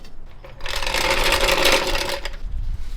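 A power impact tool spins off drive shaft bolts on a W58-swapped Lexus IS300 during a transmission swap, a loud buzzing burst lasting about a second and a half after a quieter start, then trailing off.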